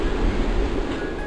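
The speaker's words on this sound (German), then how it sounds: "Mario Radauer hat den einfahrenden Güterzug übernommen." Model railway freight train pulling into a station on a club layout, a steady close rumble of wheels on track running continuously with no voices.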